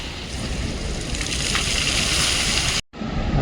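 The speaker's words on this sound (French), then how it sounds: "Magnifique fontaine." Fountain water jets hiss and splash in a steady, loud rush that breaks off briefly before resuming.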